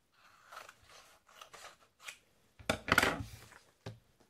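Scissors snip through paper in a quiet classroom-style craft activity: several short crisp cuts in an uneven rhythm, with one longer, louder cut near the end, close and alone without talk.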